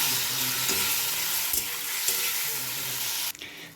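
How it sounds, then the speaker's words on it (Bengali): Vegetables frying in spiced oil in a pan for a light fish curry, a loud steady sizzle with a few stirring scrapes, the crackle briefly cut near the end. "সবজি ভাজা হবে ভালো করে"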